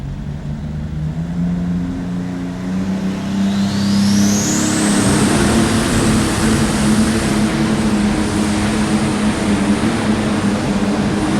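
A farm tractor's engine roars and revs hard during a tractor pull at the 1993 National Farm Machinery Show, a loud sustained drone climbing in pitch and holding at full power, with no voices over it.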